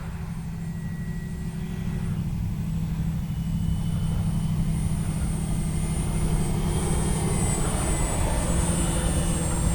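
An E-flite CZ T-28 radio-controlled model airplane flies overhead with a continuous electric motor drone that swells slightly louder as it passes, heard outdoors without speech.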